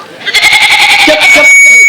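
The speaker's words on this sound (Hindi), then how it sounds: "देख रहा हूँ बकरी है।" A goat bleats in a quavering, pulsing call for about a second amid a lively outdoor nautanki folk-theatre performance, with background chatter and a sustained high tone underneath.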